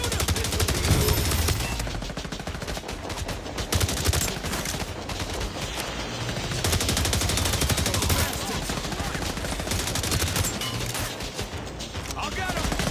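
Rapid bursts of automatic gunfire from The Division Resurgence, a mobile third-person shooter, crackle densely and continuously for about thirteen seconds with almost no gaps, a voice cutting in briefly over the barrage.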